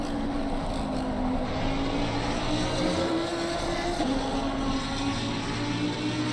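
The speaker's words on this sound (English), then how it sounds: "What an engine sound these things make." V10 race car engine in a racing video game, a loud, continuous high-pitched roar at close range that holds a steady pitch with slight shifts.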